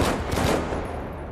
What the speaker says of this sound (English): That's the enemy bullets, that is.